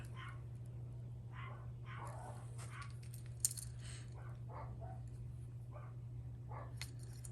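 Several short dog barks come from a distance, spaced irregularly over a steady low electrical hum.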